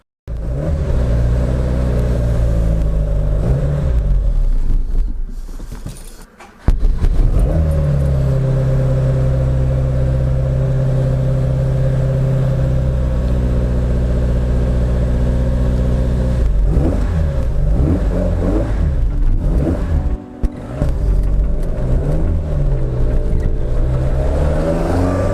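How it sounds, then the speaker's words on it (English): A barn-find Saab 96 engine idles and revs steadily close by, loud and sustained, with a brief dip and a few throttle blips toward the end. "just listen to this car, it's awesome"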